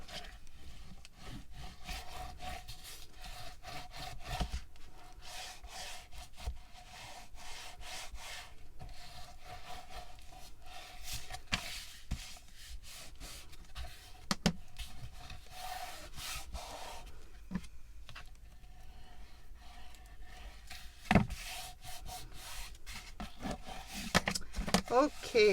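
A squeegee smooths tea bag paper onto a gutted book cover, a steady close rubbing and scraping texture with occasional sharper scrapes, continuous throughout.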